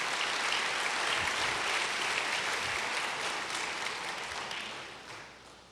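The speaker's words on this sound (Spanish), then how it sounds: "Dale fuerte el aplauso." A church congregation gives a strong, steady round of applause, many hands clapping in a dense wash that fades gradually toward the end.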